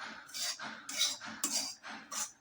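Potato kacharya is stirred in a pan with a spoon, scraping and clinking in a steady rhythm of about five strokes, close but fairly soft, with no talking.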